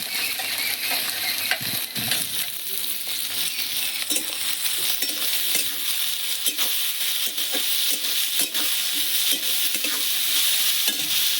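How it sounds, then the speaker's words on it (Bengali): Sliced bitter gourd frying in a pan with a little salt and turmeric, giving a steady, loud, close sizzle with occasional soft stirring clicks and scrapes, and no talk. "উচ্ছের মধ্যে আমি দিয়ে দেবো সামান্য একটু নুন আর সামান্য একটু হলুদ গুঁড়ো দিয়ে আমি উচ্ছেটা ভালো করে ভেজে নেবো।"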